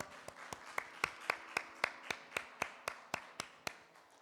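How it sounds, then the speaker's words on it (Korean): Congregation clapping in unison in a church, a steady even rhythm of about sixteen crisp claps, fairly faint and with no voices over it. "하나님께 영광의 박수 올려드리겠습니다."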